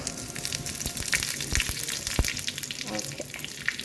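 Tempering sizzles and crackles in a hot pan for keerai pulikari, a steady frying hiss with small irregular pops and faint clinks, fairly quiet and close.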